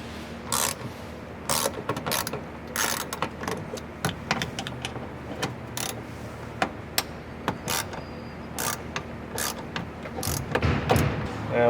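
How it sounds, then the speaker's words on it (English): A ratchet on an extension loosens 10mm bolts on trim of a 2022 Toyota Tundra CrewMax, giving close, crisp clicking bursts in irregular spurts with short pauses between them. "I'll grab our 10mm on an extension and remove the bolts"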